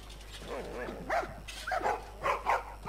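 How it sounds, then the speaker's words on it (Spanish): Dogs barking in the video game The Last of Us: a few loud, sharp barks in quick succession, with one dog briefly whining at the start, set against a low ambient hum of the game scene. "Oh, bonitos perritos."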